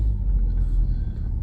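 A vehicle engine rumbles low and steady up close while the vehicle slides through snow, a continuous deep drone with no voices.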